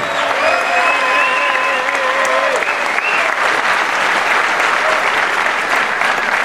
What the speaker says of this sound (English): So how about a big round of applause, our founding father, Mr. Joe Weider.